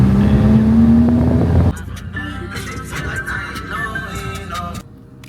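A modified Ford Mustang Mach 1, built to about 750 wheel horsepower, revs loudly with a rising engine note, then drops to a rough, burbling idle close by. Faint voices can be heard under it.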